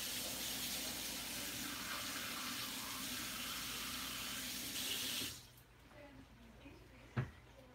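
A kitchen tap runs steadily for about five seconds to rinse an immersion blender, then shuts off, leaving quiet room tone and one brief knock near the end.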